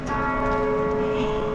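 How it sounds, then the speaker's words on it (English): A church bell in the town square of Heiden, Switzerland, rings noon, its steady sustained tone filling the short stretch with no voices. "The church bell just rang noon"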